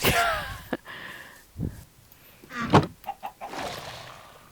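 A Minecraft chicken clucks in short bursts over several seconds, mixed with other game sounds, at a moderately close distance.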